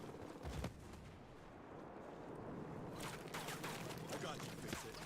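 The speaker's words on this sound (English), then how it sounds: "that machine gun over there can just attack my ass and Enemies attacking with mortars" Machine gun and mortar fire in Ghost Recon Breakpoint, with a heavy thump early on and then a dense rattle of gunfire and blasts over a rumbling battlefield background while a player speaks.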